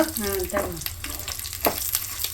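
Dried prawns sizzle and crackle in a hot oil tempering, with brief stirring scrapes and a few sharper splattering bursts, close by.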